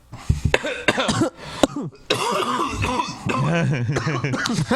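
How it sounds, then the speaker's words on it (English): Repeated harsh coughs and throat-clearing burst out in an uneven fit in a studio, mixed with voices and laughter nearby. "I've always wanted to be in the room when a coughing fit happens."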